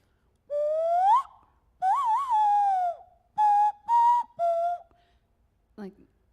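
Several bright, wavering whistled tones in short bursts with pauses between, followed by a brief breathy puff; nasal whistling, close and clear.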